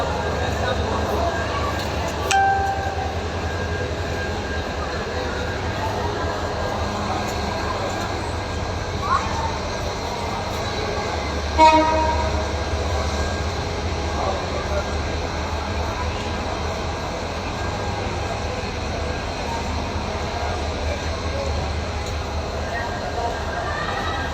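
Steady low rumble of a moving train heard from inside a carriage at Mohakhali, Dhaka, continuous and even, with faint voices in the background.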